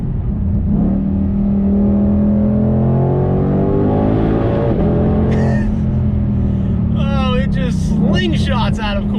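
A 2020 Ford GT500 with 760 hp accelerates hard from inside the cabin, its loud engine note climbing steadily in pitch before a quick gear change and another rising pull, with voices speaking over it.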